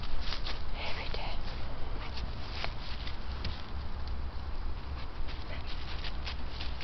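A black dog digging in the woods near Besançon makes a busy run of scratching and patter in leaf litter and earth, close up, with a voice talking over it the whole way.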